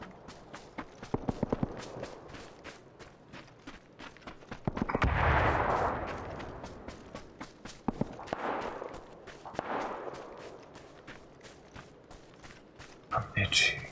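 Gunfire in the battle-royale game PUBG, a few scattered shots and short bursts at mid distance, with a louder burst near the middle and more toward the end, heard among footstep-like clatter while people talk.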